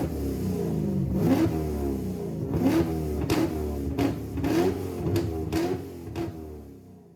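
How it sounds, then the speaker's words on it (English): A car engine revs hard and repeatedly, its pitch rising and falling in surging throttle blips. It sounds loud and close, with no voices. "We're going to rev it for Rob."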